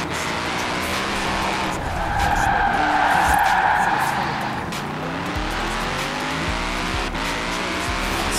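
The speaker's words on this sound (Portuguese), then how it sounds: "Vai fazer um drift doido aí, ó" Ken Block's Ford F150 drifting through Edinburgh city streets in the Forza video game, tires skidding and squealing continuously over a revving engine.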